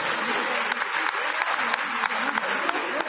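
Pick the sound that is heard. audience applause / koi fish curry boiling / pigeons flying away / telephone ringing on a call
audience applause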